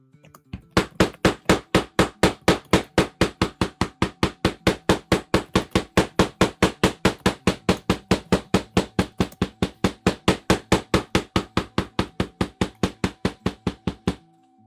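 A rawhide mallet pounds leather for a shoe upper in a long, steady run of evenly spaced, sharp, loud knocks, close up and without pause for about fourteen seconds.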